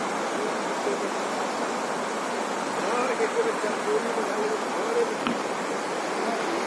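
Rising floodwater flows past Asothu village during a flood, a steady broad rush of water that stays fairly constant, with faint voices in the background.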